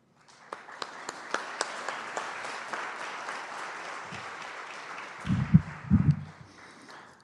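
An audience at a school board public meeting applauds the partners, a steady wash of clapping with a few sharp near claps, while a voice speaks briefly toward the end.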